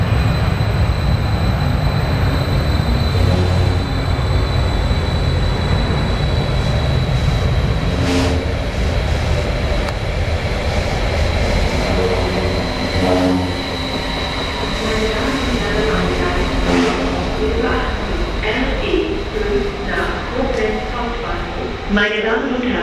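A train enters and leaves the tunnel at Düsseldorf Airport station, a loud continuous rumble and rolling of wheels with rising and falling roar and brief squeals, while station announcements and voices carry over it.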